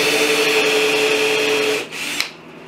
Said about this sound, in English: So I will drill a pilot hole.